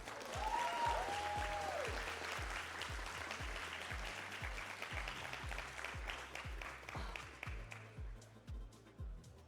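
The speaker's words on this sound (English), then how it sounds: "please, a round of applause" Conference audience applause at an esports event presentation, a sustained patter of clapping that gradually thins, with a steady rhythmic low thumping of background music beneath and a brief tonal sweep early on.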